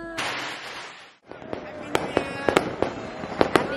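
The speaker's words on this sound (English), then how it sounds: "Big fireworks in front of our house" Big New Year fireworks burst in front of a house during Chinese New Year, a long roaring barrage easing off, then sharp loud bangs cracking repeatedly and irregularly, close by.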